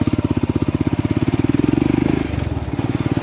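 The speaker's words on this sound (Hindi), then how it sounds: "बाइक का है, बाइक" A nearby motorcycle engine chugs in rhythmic low pulses, revs up briefly into a denser, louder drone, then drops back to a slower idle.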